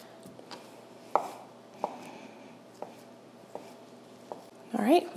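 A knife dices mozzarella cheese into little cubes on a board, a series of crisp, separate chops spaced about a second apart, with a voice briefly speaking at the end.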